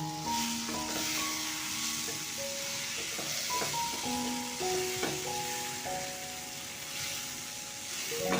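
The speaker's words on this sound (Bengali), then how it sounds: "এবার এটাকে আবারও ভালো করে একটু মিশিয়ে ভেজে নেব" Chicken curry spices, cumin powder and eight to ten green chillies frying and being stirred in oil make a moderate, continuous sizzle, with faint tonal hums and clinks underneath and no talking.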